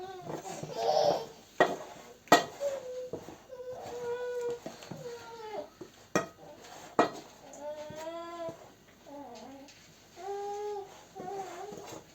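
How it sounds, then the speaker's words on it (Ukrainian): Chicken drumsticks tossed and coated in a bowl give off a few clinks and scrapes of utensils against the dish, mostly beneath a child's babbling and vocalising nearby. "Так, ми розмішуємо файно і обкачуємо кожну гомілочку."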